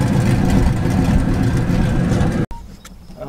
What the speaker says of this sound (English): when I go to rev it in neutral, it should cut off at 3500 and kind of give like that two-step sound to it